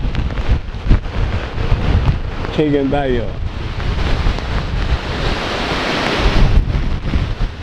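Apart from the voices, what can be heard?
strong hurricane wind during Hurricane Beryl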